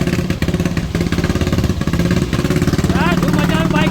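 A motorcycle engine runs close by in heavy rain, its rapid pulsing chug loud and steady throughout, with a brief higher whine near the end.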